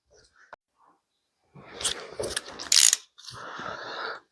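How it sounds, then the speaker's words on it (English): Ratchet on a 7mm quarter-inch drive tightening a heavy-duty hose clip on a water housing elbow of a Land Rover Defender TD5, giving a few quick bursts of close, bright clicking separated by brief pauses. "I'm going to use a 7mm 1/4 inch drive to button this up"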